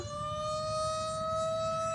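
An ambulance siren from the 1981 French comedy film La Chèvre sounds as a steady, sustained wailing tone at moderate distance for about two seconds, with no speech over it.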